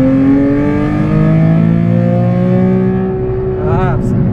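A Nissan 370Z Nismo V6 is held loud and close against its rev limiter, a sustained high drone that bounces on the clean fuel cut, then drops away into a falling whine.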